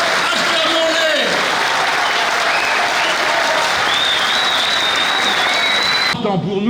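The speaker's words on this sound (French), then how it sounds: "Acclamons-les!" Audience at a political conference applauding loudly and steadily for about six seconds, a dense continuous wall of clapping that cuts off abruptly near the end, followed by a brief voice.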